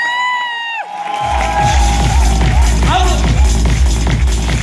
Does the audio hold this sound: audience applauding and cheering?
yes